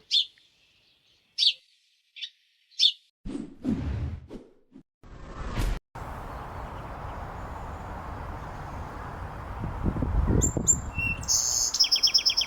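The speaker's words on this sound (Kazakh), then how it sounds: "Торғай." Several short, high chirps of a sparrow, spaced apart, followed by rustling and a steady low rush of background noise.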